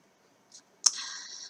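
A computer mouse gives a soft click followed by a sharper, close click in a quiet room, the second with a brief ringing tail.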